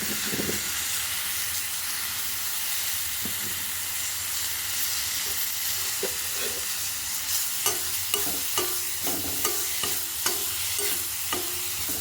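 Onions sautéing in a pan give a steady broad sizzle and hiss, with soft stirring scrapes growing more frequent toward the end, close and continuous.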